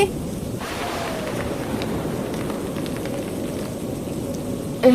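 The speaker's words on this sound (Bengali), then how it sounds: "খুব জোরে বাতাস বইছে মনে হচ্ছে আমাদের ঘর ভেঙে যাবে" Strong storm wind blows through a cartoon scene, a steady low roar that holds for several seconds, with brief bumps at the start and end.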